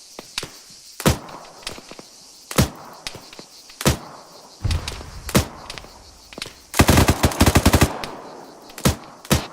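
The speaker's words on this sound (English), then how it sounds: "just firing towards the next warehouse building" Gunfire in the ArmA 3 military game, single loud shots spaced irregularly, then a rapid automatic burst, close and sharp with no talking.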